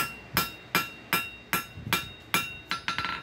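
A hammer planishing metal scrolling tong blanks, eight ringing metallic strikes in a steady rhythm about every 0.4 seconds, close and loud, each with a bright clink and short decay, the last few quicker and lighter.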